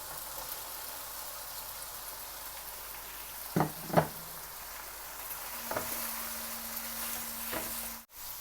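Chicken sautés with green chillies and capsicum in a pan for chicken fajita rice, a soft, steady hiss of frying with a few sharp utensil knocks partway through.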